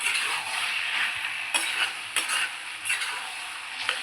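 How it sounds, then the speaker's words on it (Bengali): Onion and poppy seed paste sizzles and fries in oil while being stirred, with a steady close crackle and several distinct scraping strokes of the spoon against the pan. "নাড়তে নাড়তে পুরো তেল ছেড়ে যাবে"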